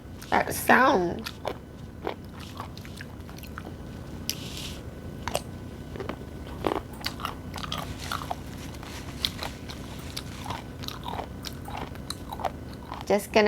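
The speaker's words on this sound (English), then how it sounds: "I just love this crunchy texture and the sound that it makes in your mouth." Raw abalone sashimi is chewed close to the mic with sharp, wet crunches and bites that repeat unevenly. A brief voice sound comes early among the chewing.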